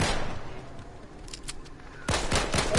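Video game gunfire comes in rapid bursts of sharp cracks, loud at the start, sparse scattered shots in the middle, then a dense close volley toward the end.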